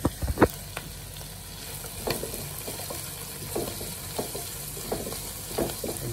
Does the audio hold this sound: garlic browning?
yes